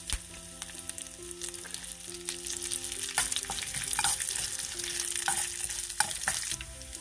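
Mustard seeds, red chili and curry leaves sizzle steadily in hot oil while tempering for a vegetable kadhi, with sharp crackles and pops scattered through a continuous frying hiss.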